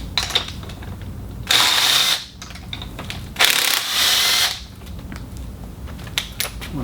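Car engine spark plugs being pulled from the cylinders one by one, with close, brief metallic clicks and ratcheting handling sounds and two louder bursts of tool noise, no talking.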